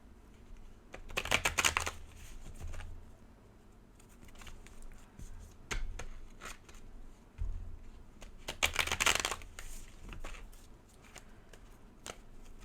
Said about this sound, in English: This deck is not even, so it's quite hard to shuffle.